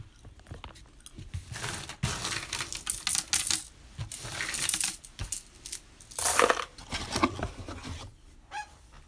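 Pennies and other coins, including wheat cents and Canadian pieces, are handled and dropped in a series of bright metallic clinks and rattles, close up, with pauses between bursts and no talking.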